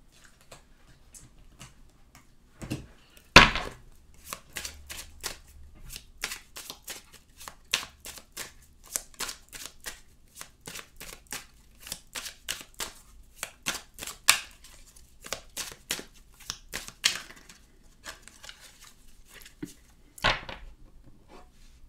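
Oracle cards shuffled for a divination reading, a long run of crisp riffling and tapping bursts in an uneven rhythm, close and fairly quiet, with no talking.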